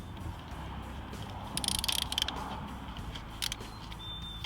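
A ratchet wrench with E10 and TX25 sockets works a loose bolt on the valve cover of a Mercedes-Benz ML320. It gives faint bursts of quick clicking in a quiet garage, with no talk.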